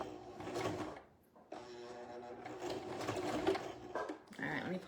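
A sewing machine stitching on paper, a close whirring mechanical run that stops briefly, then resumes in a longer steady burst, with a faint click near the end and no talk.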